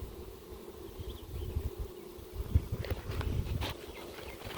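Honeybees released from a package into a hive give off a low, steady hum close by, broken by a few soft knocks and bumps of handling.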